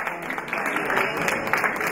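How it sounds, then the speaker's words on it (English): Audience at a fashion show and music event at the Commonwealth Africa Summit, clapping in a steady, dense burst of applause that stays even and moderately loud for the whole stretch. "Give them a big round of applause."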